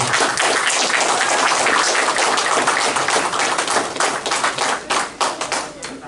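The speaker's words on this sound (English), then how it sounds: "I give yourselves a round of applause" An audience at a Hall of Fame induction ceremony gives a loud round of applause, dense clapping close up that thins slightly toward the end.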